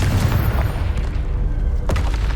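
A Confringo fire spell blast in the Hogwarts Legacy video game: a loud, deep booming explosion with a rumbling, crackling tail and a second sharp burst near the end.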